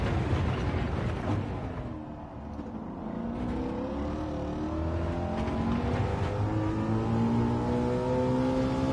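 A Mustang engine in Gran Turismo 7 at Laguna Seca roars continuously, its pitch rising steadily through the revs and dropping at each upshift, loud and close throughout.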